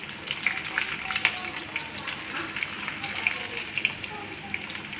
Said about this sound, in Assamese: পিঁয়াজ এইটো ভাজি দিছে ধুনীয়াকৈ